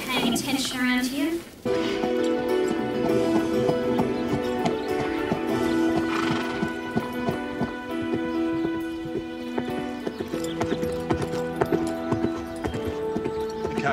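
A ridden horse at a stable in a TV drama gives a whinny at the start, then hooves clip-clop under a steady music score with voices talking over it.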